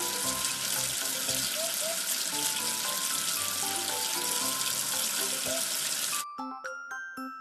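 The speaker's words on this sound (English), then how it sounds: "Wash away the soap with water." Running water rinses soap off a plastic number-12 figure, a steady hissing splash that stops abruptly near the end, followed by a few bright plinking tones.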